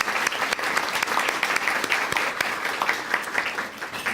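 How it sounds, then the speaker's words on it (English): Steady applause from an audience at a school morning recognition event thanking medical-center volunteers, dense and continuous, sustained evenly throughout. "Could you give them a round of applause?"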